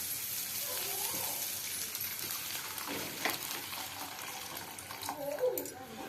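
Water pours steadily into a cooking pan for suji upma, a continuous splashing rush with a couple of faint clinks near the end.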